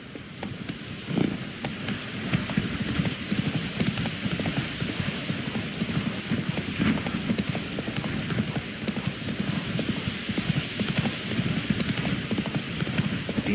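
Roach, the horse in The Witcher 3, trots with rapid rhythmic hoof clip-clops, close and steady, over faint game ambience.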